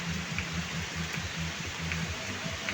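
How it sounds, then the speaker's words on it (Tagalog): Steady rain falling in the Bicol countryside in the Philippines, a constant dense hiss with no breaks and no voices, fairly loud and even throughout. "Ayan, bumagsak na naman ang ulan."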